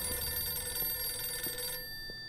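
A telephone rings in the Blues & Bullets video game, a steady electronic bell tone repeating for about two seconds and then cutting off, fairly quiet with no voices.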